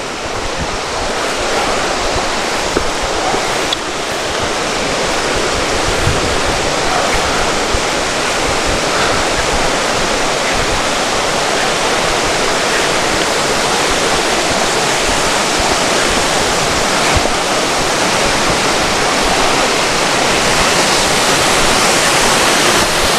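Changey Falls, a waterfall in North Bengal, roars steadily and loudly from close range, a dense unbroken rush of falling water with a faint touch of wind on the microphone.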